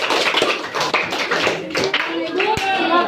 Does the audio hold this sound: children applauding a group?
yes